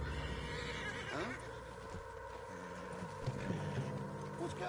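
A spooked horse in Red Dead Redemption 2 gives a whinny and snorts close by, over steady ambient game noise, with a brief clip-clop of hooves.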